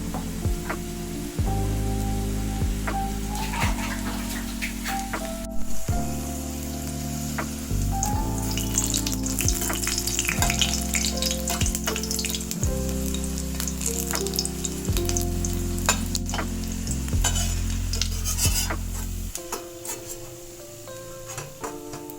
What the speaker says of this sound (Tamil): எண்ணெய் சூடாயிருச்சு. இப்போ பொரிச்சிக்கலாம்.